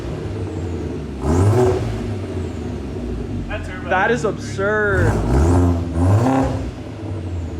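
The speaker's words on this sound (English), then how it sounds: "That is hands down the best sounding exhaust for an A4." An Audi A4 1.8T with an aftermarket exhaust rumbles low and steady throughout, swelling briefly in places, while someone talks over it.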